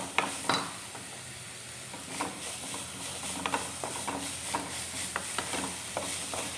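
Finely chopped onion and spinach are sautéed in oil for spinach cutlets, a soft sizzle broken by repeated spatula scrapes and clicks against the pan at an uneven rhythm.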